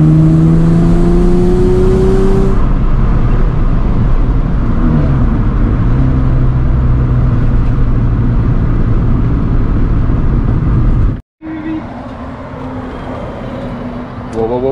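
A Nissan 350Z accelerates hard, its engine roaring loud and close with a rising pitch, a brief drop between gears, then pulling again.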